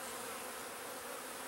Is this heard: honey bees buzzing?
yes